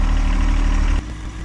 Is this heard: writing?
no